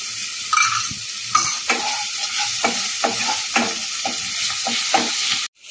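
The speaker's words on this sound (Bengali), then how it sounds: "একদম যখন ম্যাশ হয়ে যাবে, ততক্ষণ আমি নাড়াবো টমেটোটাকে।" Tomatoes stirred in a frying pan for chicken tomato pasta, with a steady sizzle under repeated scraping strokes of a spoon, close and fairly loud throughout.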